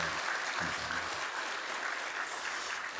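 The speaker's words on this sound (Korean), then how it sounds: "우리 한번 격려의 박수소리를 좀 더 크게 해서 한번 박수를 하겠습니다." Church congregation applauds during a Sunday worship service, a soft, even wash of clapping that holds steady for a few seconds, with a voice murmuring faintly at the start.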